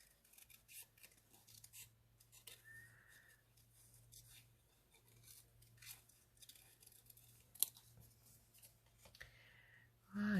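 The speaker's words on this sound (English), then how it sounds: "So these aren't easy to fussy cut, but if you move the paper rather than your scissors, it kind of helps." Scissors fussy-cut patterned paper for a journal page, making quiet, intermittent snips and paper rustles over a low, steady background hum.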